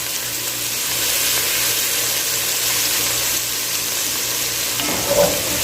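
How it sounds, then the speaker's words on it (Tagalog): Pancit canton frying in a pan as soy sauce goes in, a steady loud broadband sizzle running throughout with a brief sharper hiss burst near the end, no talking. "Ilagay na natin yung ating soy sauce."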